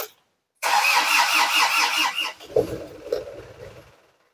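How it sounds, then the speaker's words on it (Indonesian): Isuzu NKR truck diesel engine cranking, catching and settling into a rough idle, close and loud, heard alone. "Itu apabila unit NKR seperti ini saya nyalakan"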